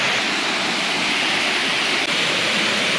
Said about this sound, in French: Je crois qu'on est bientôt à la cascade.